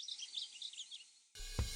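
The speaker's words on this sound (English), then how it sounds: "Common grackle." A common grackle calls with a run of squeaky, scratchy chirps and whistles, fairly close and clear, then cuts off abruptly into a brief dull thump and rumble.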